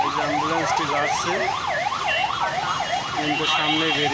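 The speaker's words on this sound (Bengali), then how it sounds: "এই যে অ্যাম্বুলেন্সটি যাচ্ছে" An ambulance siren wails in a steady, rapidly rising and falling pattern as it passes through a traffic jam at the Kushtia Majampur gate. It stays loud and continuous, with faint road traffic underneath.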